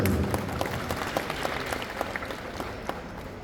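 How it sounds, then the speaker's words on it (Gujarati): Steady applause from a seated crowd at a school farewell ceremony for retiring teachers, moderately loud and sustained, with a faint murmur under the clapping. "એકવાર જોરદાર તાળીઓ"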